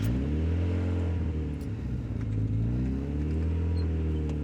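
A Mazda Miata engine being revved, a close, loud, sustained engine note with its pitch rising and falling over a few seconds, with no voices.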